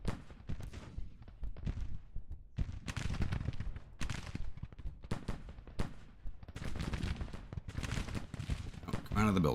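Musket volleys from skirmishers crackle through a Civil War strategy battle in Grand Tactician, dense bursts of overlapping gunfire with brief lulls, mixed with a voice talking over the action.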